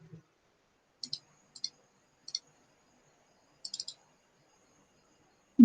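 A computer mouse clicks on a Windows 10 PC, with single clicks and a quick double click spread across a quiet room, close and crisp.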